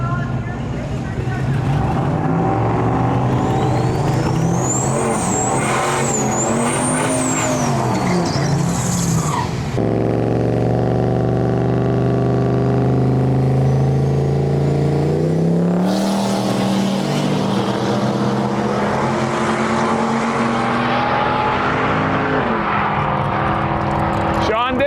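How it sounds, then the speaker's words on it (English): An LS turbo-powered farm truck making a drag racing pass at a big drag-and-drive event, engine roaring loud and close with a sharp shift partway, then the tone dropping and rising again, with a voice talking over it. "here's Sean Dick, one of our hometown heroes from Winnipeg, Manitoba, Canada, run the LS Turbo big farm truck."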